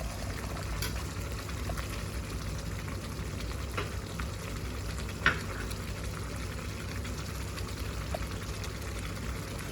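Chicken karahi with garnish of sliced ginger cooking in a pan, a steady low bubbling simmer and soft frying hiss with a few faint clinks, close and fairly quiet, no talking.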